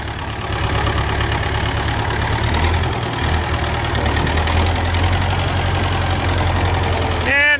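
An old farm tractor engine idles steadily, a low continuous rumble with a slightly knocking, uneven rhythm, loud and close throughout.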